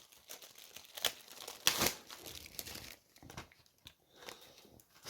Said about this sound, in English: We rip the plastic off.